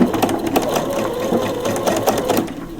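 A sewing machine running steadily as it stitches a lace lingerie seam with a 6mm allowance, its close, even mechanical chatter continuing throughout with small rhythmic ticks.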